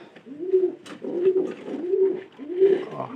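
Domestic pigeons kept for breeding and sale give four close, rhythmic coos, each a low rolling call with short pauses between, and no voices are heard.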